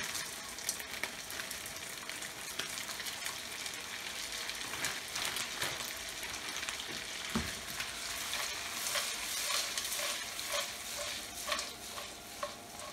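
Peas cook in a pan for a carbonara, giving a steady, fairly loud sizzle with scattered crackles and light stirring scrapes throughout, close up and with no voices.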